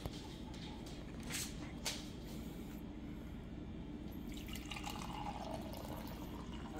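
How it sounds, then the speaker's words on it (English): French press coffee pours into a glass from a BAYKA French press coffee and tea maker, a steady close liquid stream with faint dripping over a low room hum, running alone without talk. "we're gonna go ahead and pour it into the glass."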